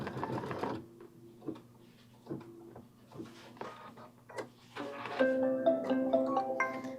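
A computerized quilting machine runs a basting stitch on a tote, a close mechanical whirr with rhythmic stitching pulses. It pauses briefly, then gives a steadier, louder stretch of humming motor and needle chatter near the end, with no talking.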